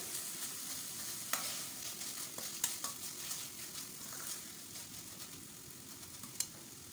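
Green chillies and ginger garlic paste fry in hot oil with a steady, close sizzle, broken by a few sharp clinks of a spoon stirring against the pan.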